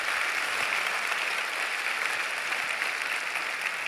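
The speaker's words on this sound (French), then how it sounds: "ça mérite des applaudissements bien plus fournis, s'il vous plaît" A graduation ceremony audience fills the hall with steady, dense applause, a continuous wash of many hands clapping at an even level throughout, with no talk over it.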